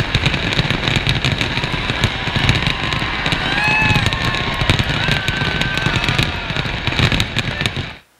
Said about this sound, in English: I actually went to London and watched all the fireworks and recorded it on the GoPro